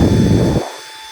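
A Mi Vacuum Cleaner Lite 2 runs with a loud, close whirring roar for about half a second and then cuts off abruptly, leaving only a faint steady hum.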